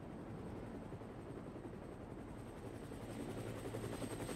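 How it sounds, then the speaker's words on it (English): Helicopter in the video game Dead Rising, its steady rotor drone and engine rumble running continuously at moderate loudness with no talk over it. "We start off in a helicopter"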